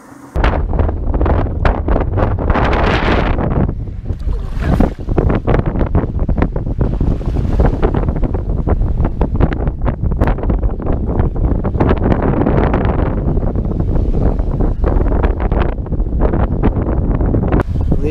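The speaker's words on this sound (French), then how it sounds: "J'ai du vent." Strong ocean wind batters a sailing boat at sea, with loud, gusting buffeting across the microphone and rushing wave noise that surges and eases continuously, with no voices.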